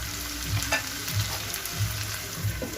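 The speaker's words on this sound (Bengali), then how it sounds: "এবার আমি 2 মিনিট ঢাকা দিয়ে একদম হাই ফ্লেমে এগুলোকে ভেজে নেব।" Chicken tandoori pieces fry in a covered pan over a high flame, giving a steady close sizzle with a soft low pulse repeating about every 0.6 seconds and no voices.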